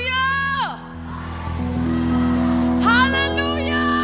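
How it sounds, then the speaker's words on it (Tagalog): A church congregation shouts hallelujah together during worship, a loud mass of raised voices rising and falling over sustained organ or keyboard chords, with two swelling bursts of shouting. "sumigaw ng hallelujah"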